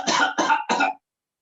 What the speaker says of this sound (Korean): 기침을 시켜봐라